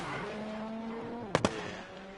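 A Hyundai rally car engine in a WRC video game drones and whines, then two sharp exhaust pops crack in quick succession near the end before the engine settles.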